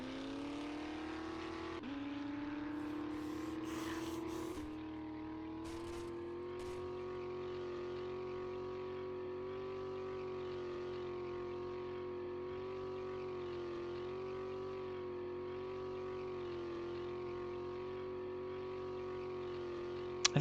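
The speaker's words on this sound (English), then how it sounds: "I think they gave a new sound to the 4x4 too. This is not the sound that I'm used to." A 4x4 truck engine drives steadily in the survival game 7 Days to Die, a continuous even drone with a slight pitch rise early on, holding a constant level without speech.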